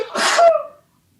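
A single sharp sneeze, close and loud, with a breathy burst trailing into a brief tonal tail before silence.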